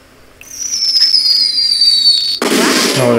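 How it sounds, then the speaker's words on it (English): Fireworks in the video game The Quarry: a long descending whistle as a rocket climbs, then a loud crackling burst near the end, with no voices. "Oh, they're popping fireworks."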